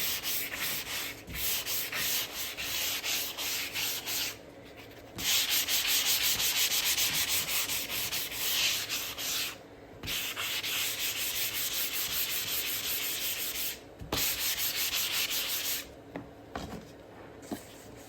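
Steady back-and-forth sanding of round wood signs ahead of white paint, continuous and close with several brief pauses between passes, no voices.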